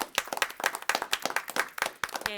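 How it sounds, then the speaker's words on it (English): A small group claps for city staff team members at a council meeting, a quick scattered run of close, distinct hand claps lasting a couple of seconds before a voice begins. "give our city staff team members another round of applause"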